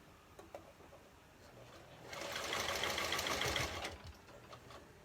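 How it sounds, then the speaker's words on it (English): Sewing machine stitching nylon mask fabric, a fast steady whir that swells loud for a couple of seconds in the middle of the clip, with the machine wobbling slightly and quieter handling sounds before and after. "start sewing this direction now"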